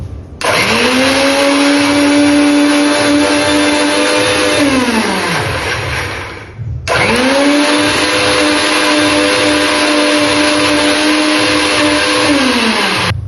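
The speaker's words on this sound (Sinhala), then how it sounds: "හොඳට බ්ලෙන්ඩර් කරගමු." A loud blender runs in two long bursts of whirring grinding, each winding down, with a short pause between them.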